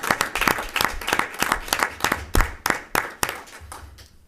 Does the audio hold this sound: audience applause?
yes